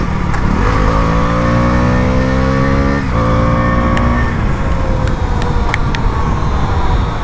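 A Husqvarna 250 cc motorcycle fitted with an R1M type exhaust riding along, its engine revving up and shifting through gears with a loud, steady drone amid wind noise.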